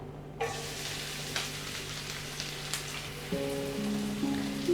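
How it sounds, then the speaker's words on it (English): Chopped onion hits about three tablespoons of hot oil in a pan and sizzles steadily up close, with a few small pops and a metallic clink or scrape of a utensil toward the end. "I've added about 3 tablespoons of oil into the pan. Adding 1 chopped onion,"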